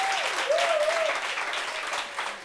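An audience at a French-language community meeting on tontine savings groups applauds, a dense, steady burst of clapping from many hands that fills the whole stretch before easing slightly at the end.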